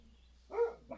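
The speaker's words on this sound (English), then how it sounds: "You just made the dog bark." A dog lets out a single short bark at moderate distance during a podcast recording, with a briefer, fainter yelp right after and no talking over it.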